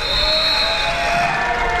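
A sustained electronic buzzer sounds at the end of the first quarter in a high school girls' basketball championship game, a steady loud tone over gym crowd noise.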